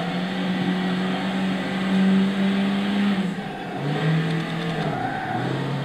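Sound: Toyota Celica GT-R 1986 engine revving in Gran Turismo 6 video game

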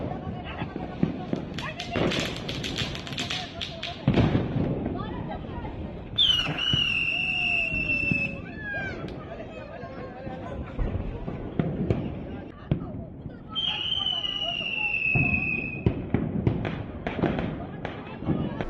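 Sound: firecrackers bursting

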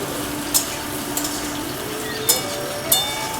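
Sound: stir-frying vegetables and red potatoes in a pan

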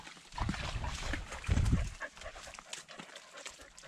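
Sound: dog panting

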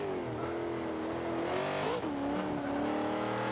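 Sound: 1995 Mustang engine revving in Forza 5 video game

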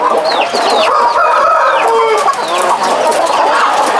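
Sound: chickens clucking in cage

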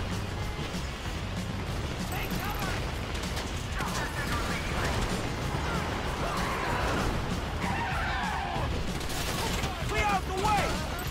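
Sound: gunfire in the video game GTA 5

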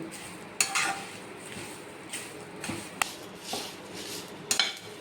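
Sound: stirring curry leaves roasting in pan

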